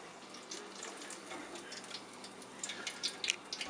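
Orange slices deep frying in a deep fryer give off a steady, hissing sizzle that grows busier near the end, with sharp crackling pops rising over the boil.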